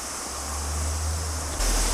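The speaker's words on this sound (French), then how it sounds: "me voilà pour une dernière petite cascade avant d'aller là où je vais dormir" Small waterfall on New Zealand's west coast, a steady broadband rush of falling water heard close and loud, swelling briefly louder near the end.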